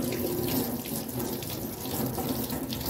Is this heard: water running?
yes